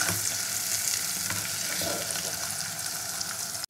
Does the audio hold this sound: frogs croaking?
no